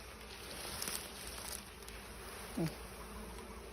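Bees buzzing around a large honeycomb hive being harvested, a faint steady hum with a few louder passes close by, one brief buzz swelling near the end, no speech.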